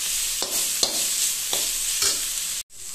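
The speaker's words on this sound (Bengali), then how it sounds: "প্রায় হয়েই গেছে শাক ভাজা" Leafy greens (shak) fry in a pan, giving a continuous bright sizzle broken by several rhythmic stirring scrapes, followed by a brief sudden dropout near the end, and no talking.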